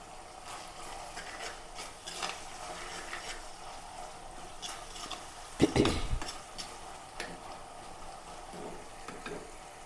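Green chillies, six or seven hot ones, dropped into onions frying in a pan, giving a brief louder sizzle and stir burst midway over a steady background crackle of frying.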